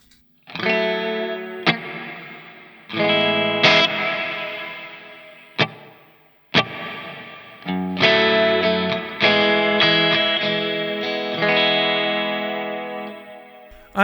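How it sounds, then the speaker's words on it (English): An electric guitar played through a Walrus Audio Slo reverb pedal rings out in sustained distorted chords, each dropping off into a lush, washing reverb tail, with several short breaks between the strummed phrases. "I have the Walrus Audio Slo for one reason, and I will demonstrate that right now."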